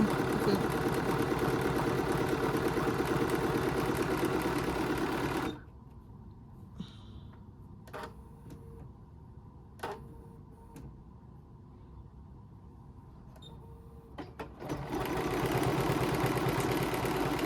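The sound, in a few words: Bernina embroidery machine stitching a design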